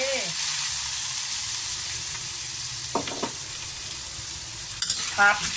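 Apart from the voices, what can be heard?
crab being stir-fried in a pan with Chinese cooking wine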